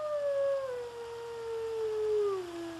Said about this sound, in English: There's really nothing like hearing a wolf howl for the first time.